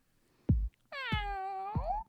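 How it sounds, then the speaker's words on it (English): A cat meows in a studio: one short meow, then a long, drawn-out meow that rises at the end, loud and close with no talking over it. "it's a kitty in the studio"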